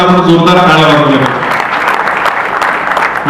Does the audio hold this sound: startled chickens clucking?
no